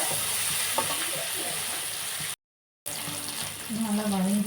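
Onions sautéing with ginger garlic paste in a pan give a continuous sizzle and frying hiss, broken by a brief silent gap, with faint stirring and a voice speaking quietly underneath toward the end.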